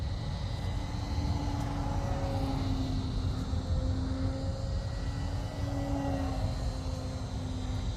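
An E-flite Carbon Z Cub RC airplane flies aerobatic loops and a half Cuban eight, its electric motor a steady, moderately distant whine that rises and falls in pitch as the plane passes and turns.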